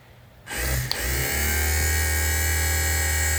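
A restored vintage 1967 Cadillac Eldorado power window motor starts abruptly and then runs with a steady loud whine and a low hum, a brief click just after startup.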